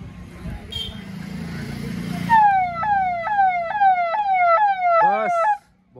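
A hooter siren fitted to a Mahindra XUV 500 sounds a loud, close, rapidly repeating rising wail that cycles several times, then switches briefly to a quicker yelp before cutting off. Steady background noise and voices come before it.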